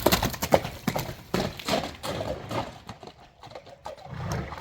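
Horse hooves striking the ground in an uneven clip-clop of repeated thuds, moderately close, with some shuffling and background noise and no clear talk.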